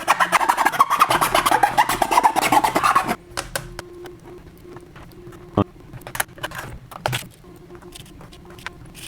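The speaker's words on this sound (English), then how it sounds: "We are going to file down the holes to the inside." Metal file rasping out screw holes in a CNC router part: a dense burst of quick back-and-forth filing strokes for about three seconds, then scattered light taps and scrapes of handling.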